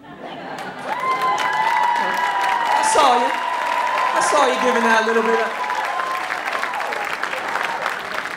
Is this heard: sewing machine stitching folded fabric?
no